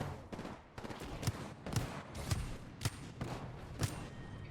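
Shooter video game gunfire in repeated rapid bursts with sharp thumping shots and short gaps, fairly faint, with no speech.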